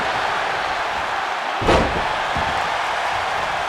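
A superkick lands in the WWE 2K25 wrestling video game, a single sharp slam-like thud midway through, heard over a steady roar from the packed arena crowd that continues before and after the hit.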